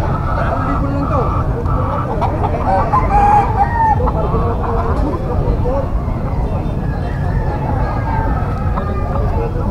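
Roosters crowing and chickens clucking at a Bocaue tiangge market where fowl are sold, overlapping bird calls amid crowd chatter, voices and distant traffic.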